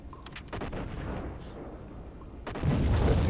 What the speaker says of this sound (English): And still more explosions.